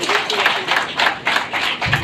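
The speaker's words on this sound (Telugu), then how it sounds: "హ్యాట్స్ ఆఫ్, గట్టి చప్పట్లు" Applause at a Rotary felicitation event, rhythmic bursts of clapping from a group, close and moderately loud across two seconds.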